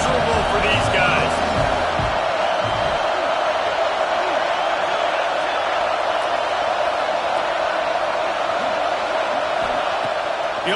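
A crowd at a football stadium roars in a dense, continuous, loud wall of cheering, with a commentator's voice over it at the start.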